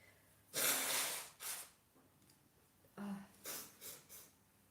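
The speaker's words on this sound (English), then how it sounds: "sorry to blow my nose here" Several forceful nose blows, each a loud burst of breathy air with a honking edge, separated by short pauses, close up and without talk.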